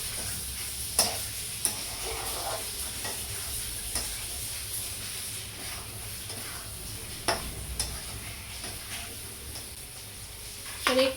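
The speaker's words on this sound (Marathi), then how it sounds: "आता आपल्याला व्यवस्थित मिक्स करून घ्यायचं आहे याला" Dry Maharashtrian-style chicken masala being stirred in a pan, with soft scraping and a low, steady sizzle, a few sharper spoon clicks against the metal standing out over quiet background hum.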